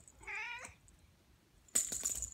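A cat gives a single clear, drawn-out meow close by, followed after a pause by a sharp burst of clattering household noise.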